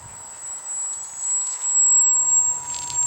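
RC Cessna 120 model airplane, 48-inch kit build, flying slowly after recovering from a spin; a thin high-pitched electric motor whine stays steady overhead, swelling and easing slightly, with a faint hum beneath.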